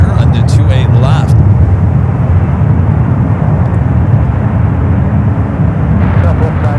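Airplane departing runway 28 left at San Francisco International Airport, a steady loud engine roar holding throughout, with brief radio-style chatter at the start and end.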